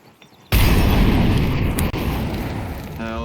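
An incendiary fire grenade bursts in Counter-Strike 2 after a short quiet lead-in, a sudden loud whooshing boom that settles into a sustained crackling roar of flames, with a brief dip near the middle.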